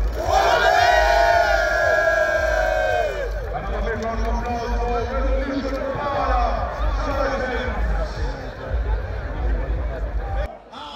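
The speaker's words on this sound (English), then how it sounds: "Round of applause for Revolution Power!" At a rugby sevens final, a large stadium crowd cheers and roars continuously, loud and dense throughout, with an announcer's amplified voice speaking over the noise at the start.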